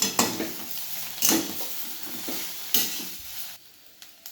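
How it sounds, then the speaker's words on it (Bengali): Egg roti pasta with soy sauce is stirred in a hot pan, a spatula scraping and knocking against the metal in several uneven strokes over a soft sizzle, close up with no talking. "আমি সোয়া সসটা এর মধ্যে দিয়ে দিলাম। এবার দিয়ে ভালো করে মিশিয়ে দেব।"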